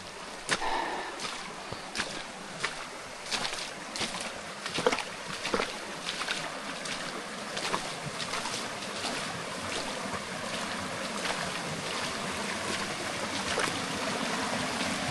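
Shallow creek water rushes and babbles steadily near a small cascade while someone wades upstream, with scattered splashes and sloshing steps over the constant flow.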